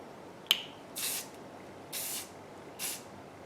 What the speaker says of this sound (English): So I'm just going to spray these